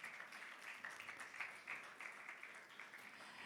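A church congregation applauding, a soft, distant patter of many hands in a continuous wash, fairly faint and without speech.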